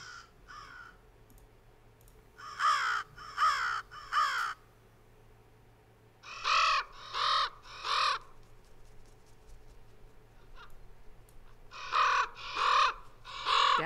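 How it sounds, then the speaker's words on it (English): A group of crows caws in rhythmic bursts of three to four harsh, clear calls, repeated several times with short quiet gaps between them, close and distinct with no voices. "Let's see what these cool crows say."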